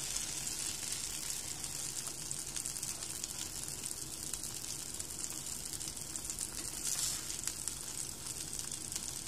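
Slices of eggplant (begun bhaja) frying in hot oil in a Bangladeshi home kitchen, a dense continuous hiss and crackle of sizzling, close and fairly loud throughout, with no voices.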